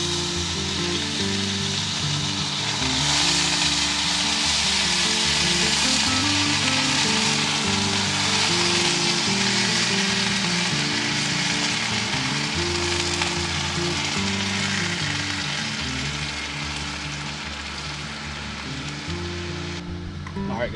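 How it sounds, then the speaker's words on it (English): Meat frying in oil in a pan at an outdoor summer shelter, a dense continuous sizzle with crackling, steady and close throughout, over faint background music. "we're gonna cook the meat here. So we're gonna put a little oil in there."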